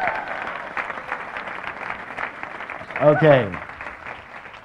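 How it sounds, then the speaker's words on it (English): A seminar audience claps continuously throughout, a moderate wash of applause under a single brief spoken word, swelling slightly near the end. "Give a round of applause."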